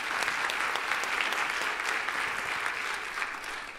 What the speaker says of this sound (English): let's give a round of applause for Doug